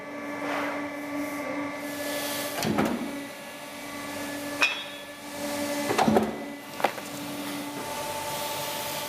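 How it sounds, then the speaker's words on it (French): Leather cutting machine at a Hermès workshop cutting bracelet blanks from leather sheets, a steady mechanical hum punctuated by a few sharp, loud cutting thumps at irregular intervals. "on a le coupeur qui est en train de couper donc ses pré-coupes pour découper nos bracelets"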